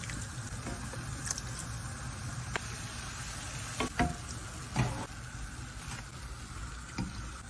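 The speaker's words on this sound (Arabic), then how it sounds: "غادي نطيبوه في الزيت سخونه على 150 درجه" Beignet dough frying in oil heated to 150 degrees, a steady close sizzle and bubbling crackle with occasional louder pops and splashes as oil is ladled over the top, with no voices.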